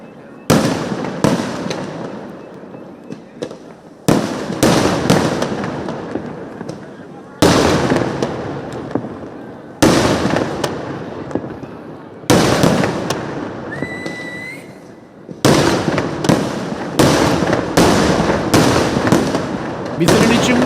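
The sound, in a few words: Thiruvambady sample fireworks display at Thrissur Pooram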